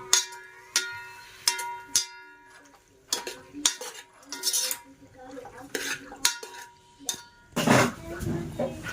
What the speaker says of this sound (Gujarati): હવે હલાવી નાખશું.